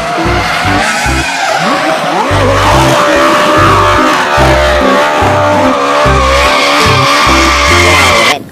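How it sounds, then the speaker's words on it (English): Toy race car sound effect with loud, sustained tire squeal and skidding over a pulsing engine rev, steady and close throughout the clip. "Wadidaw, car racing."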